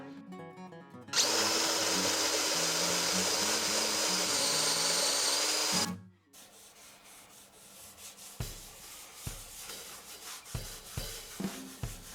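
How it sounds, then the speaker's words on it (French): A power drill bores a channel for the output jack through a finished wooden electric guitar body, a loud steady whine lasting about five seconds before cutting off, followed by quieter scattered knocks and handling clicks. "On va percer le passage vers la jack."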